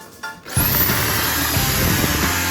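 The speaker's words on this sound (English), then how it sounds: "Well, and most importantly, a drill." A power drill bites into a Keetouch anti-vandal robust keyboard during a crash test, starting after a brief clatter with a high whine and then grinding steadily and loudly up close without speech.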